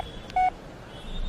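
A single short electronic keypad tone, like one phone number digit being pressed, sounds briefly over a quiet room hum.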